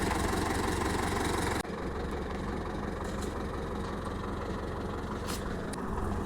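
A heavy tractor engine idles with a steady, throbbing low drone that drops slightly in level partway through, then runs on unchanged, during tree felling.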